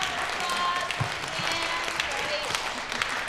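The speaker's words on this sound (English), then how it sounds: "give yourselves a big round of applause" Conference audience at an afternoon session on Parkinson's disease applauding: a steady, dense wash of clapping from a sizable crowd, sustained throughout at even loudness, with a few louder individual claps standing out.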